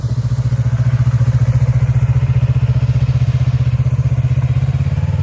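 A motorcycle rides a practice course past cones, its engine giving a steady, loud, pulsing mid-pitched drone with a regular throbbing rhythm that holds throughout, without rising or falling.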